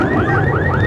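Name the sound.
burglar alarms going off in San Francisco after earthquake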